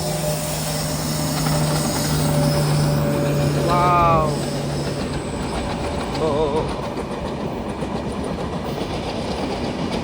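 A train passes close by a building terrace, a steady loud rumble and clatter of wheels on rails filling the whole stretch, with a brief horn-like tone early on and an excited voice exclaiming over it.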